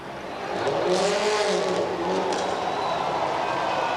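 Red rally car at the 2008 X Games Rally Car Super Special, engine droning steadily through a series of turns with rising and falling pitch, loud and close over faint crowd noise.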